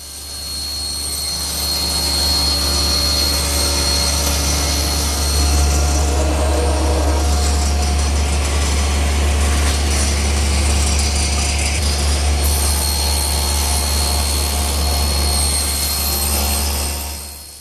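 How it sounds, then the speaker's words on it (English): A power saw cross-cutting a board to length for a Shaker two-drawer blanket chest, a loud sustained whining roar that holds steady for most of the clip, rises slightly mid-cut and tapers off at the end, with no talk. "now I'll square one end and cross-cut it to length"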